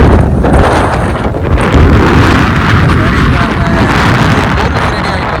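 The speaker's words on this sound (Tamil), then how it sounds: "நான் கதைக்கிறது கேட்குதோ தெரியல, சரியான காற்று சத்தம்." Strong wind on a boat roars and buffets the microphone nonstop, loud and rumbling, with a faint voice barely audible underneath.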